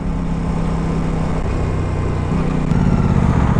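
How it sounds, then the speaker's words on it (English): Aprilia RS 660 parallel-twin 660cc motorcycle engine running, a steady loud low drone with a slight rise in revs toward the end, close to the listener and without talk. "You got the characteristic of twin engine."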